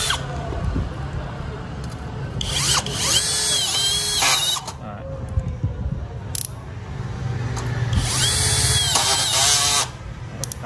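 An OMRON-style trigger electric screwdriver drives a screw in two bursts of high whirring motor with clicking clutch slips, loud and close, separated by a short pause, with someone speaking quietly in the background.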